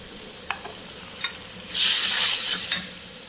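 Food is stir-fried in a pan, with a few scraping taps followed by a short burst of loud sizzling hiss, heard close with no talking.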